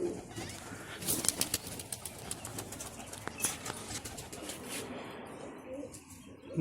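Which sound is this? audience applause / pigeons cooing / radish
pigeons cooing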